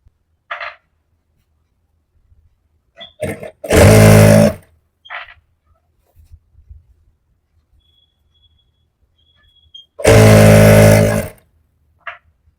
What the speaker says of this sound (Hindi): तो हम सीधा सीधा हिस्सा इस तरफ रख के और इसमें सिलाई लगाएंगे।